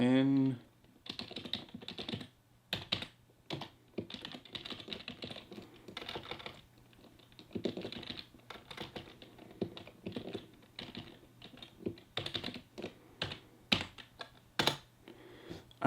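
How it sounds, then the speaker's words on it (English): Computer keyboard typing boot flags while setting up a Hackintosh, a steady run of close, quiet key taps with brief pauses throughout. "I'll just go ahead and type those in."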